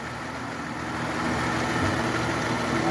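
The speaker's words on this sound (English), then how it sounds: "Okay, with the motor running." A 2018 Jeep Cherokee engine idles steadily, a continuous close rumble holding an even level with no voices over it.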